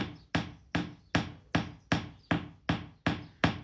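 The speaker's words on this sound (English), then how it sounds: "I'm not hammering massively onto the blade, I really am just hammering on the cutting edge." A ball peen hammer taps the cutting edge of an iron knife blade in nine evenly spaced, sharp metallic strikes, each ringing briefly before the next, close and clear with no talk.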